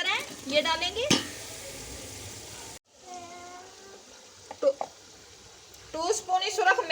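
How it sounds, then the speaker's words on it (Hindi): A paste of garlic, ginger and green chilli, along with tomatoes, fries in ghee. The hiss rises loudly, drops away, then settles into a steadier sizzle, and someone talks over parts of it. "अब हम डालेंगे इसमें लहसुन, अदरक और सब्ज़ मिर्च का पेस्ट। और 1 किलो टमाटर हैं, ये डालेंगे।"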